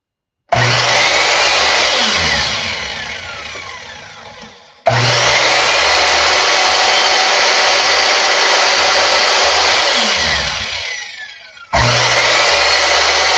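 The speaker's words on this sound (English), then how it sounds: "You wanted to see the saw? Okay, I'll show you the saw. It's pretty noisy," A power saw cuts corners off scrap wood in a machine shop, three loud whining passes, each starting abruptly, bogging slightly as the blade works through and winding down between cuts.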